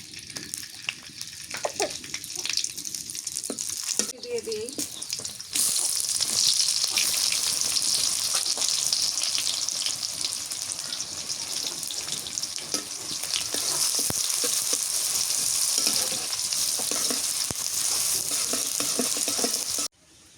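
Bay leaf, garam masala, cloves and cinnamon sizzle in hot oil for a beef liver bhuna, a loud, continuous frying hiss that swells after a few seconds and runs steadily to an abrupt stop, with no talking.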